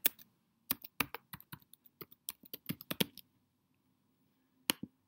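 Keystrokes on a computer keyboard as a password is entered for a new email account, sharp clicks in irregular bursts with a pause before a final couple of taps, close and clear with no talking.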